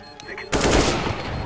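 Rapid gunfire in Counter-Strike: Global Offensive bursts in loud and close halfway through, a dense automatic rattle following a quieter lead-in.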